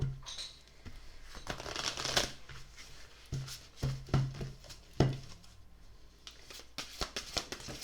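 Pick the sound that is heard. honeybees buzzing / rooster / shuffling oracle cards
shuffling oracle cards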